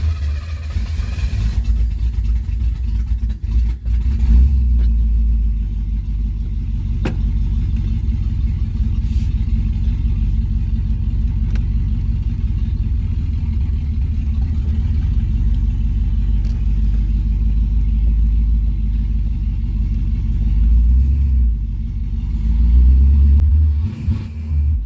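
A 1977 Pontiac Trans Am, restored from a rotten state, runs on a test drive while still warming up, its engine giving a steady deep rumble with road noise and a few brief swells of acceleration, with no talking.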